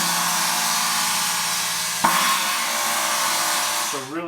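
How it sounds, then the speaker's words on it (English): A riveted 20-inch Wuhan China cymbal rings with a dense, trashy sizzle that washes on steadily and is struck again midway, sustaining loud and close before choking off. "the rivets actually kind of give it a more of a sizzly sound along with the trashy China sound."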